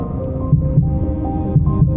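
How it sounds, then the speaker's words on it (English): A deep heartbeat thumps in a song, a slow, steady double-beat pulse repeating prominently over a low sustained hum, loud and close with no voices. "Feel my heart beating"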